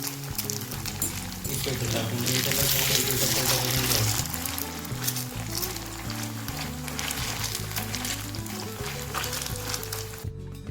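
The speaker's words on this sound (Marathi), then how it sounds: "आता आपण तळून घेऊ." Chicken 65 pieces fry in hot oil over low-medium flame, a dense continuous crackling sizzle running under steady background music and voices.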